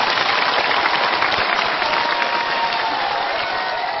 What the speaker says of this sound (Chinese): 掌声献给你们自己。